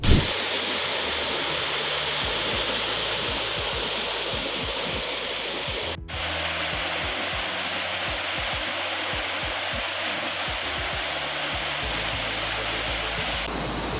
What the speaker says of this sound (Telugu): ప్రస్తుతం మనం చిద్దరి గ్రామ సమీపంలో ఉన్నటువంటి భద్భతి జలపాతానికి వచ్చాం ఇది భద్భతి జలపాతం